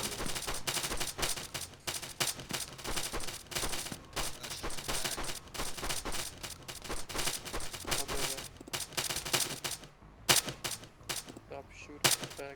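Rapid bursts of gunfire from a military shooter video game, dense volleys of shots crackling almost continuously with a brief lull near the end before a final loud report.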